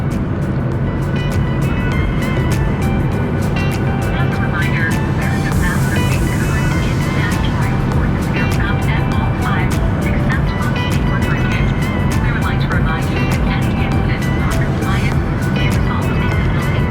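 Cabin noise on a Flair Airlines airplane departing Winnipeg: a loud, constant roar of engines and rushing air fills the cabin throughout, with no break in the steady drone.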